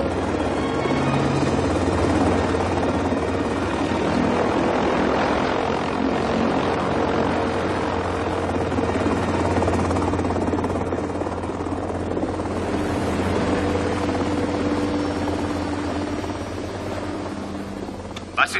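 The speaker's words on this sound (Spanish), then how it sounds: "Que localicen con el radar un helicóptero que acaba de elevarse 2 kilómetros al sur de Big Pine sobre la 168" A helicopter lifts off in a television drama scene and its rotor drone roars steadily and loudly, then recedes slightly. Voices are heard faintly in the background.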